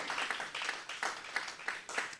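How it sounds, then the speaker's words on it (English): A small press-conference audience claps in scattered, faint bursts, heard from a distance at a low level. "Somebody clap for that"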